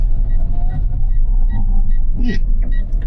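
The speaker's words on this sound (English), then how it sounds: "Pretty impressive braking on this car." A VinFast VF MPV electric car brakes hard from speed, heard from inside as a loud dense road rumble with a brief scraping squeal of the brakes near the end.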